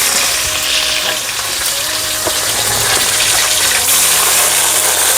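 Chopped tomato dropped into hot oil with five-spice seeds and chilli, a loud continuous close sizzle and bubbling hiss with occasional stirring clinks, no voices.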